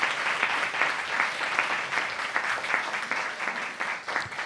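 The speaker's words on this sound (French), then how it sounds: "Applaudissez tous." A live audience at a recorded show claps in sustained, dense applause that stays steady at a fairly loud level throughout, with faint voices mixed in.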